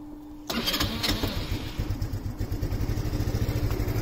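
A small Baotian Monza 125 scooter engine cranks and catches after a brief whir, then settles into a steady, fast-pulsing idle close by.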